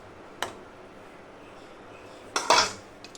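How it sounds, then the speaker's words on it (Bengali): A lid goes onto a pan of mustard hilsa curry with a single light clink, then a louder metallic clatter as it settles and rattles briefly, close by in a quiet kitchen. "এবার এটা ঢাকা দিয়ে দেবো।"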